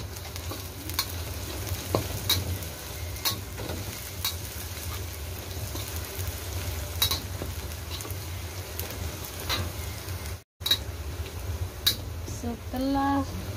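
Shallots and garlic fry in oil for a stir-fried young jackfruit dish, a steady crackling sizzle with occasional scrapes and clicks of a spatula, close and moderately loud, briefly cutting out near the end before a short voice.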